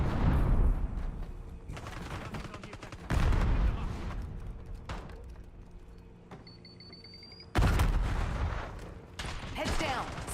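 Video game gunfire with an enemy sniper shooting: repeated sharp, loud shots and bursts spread across the stretch, some close and punchy, others thinner and distant, with game voice callouts heard between them.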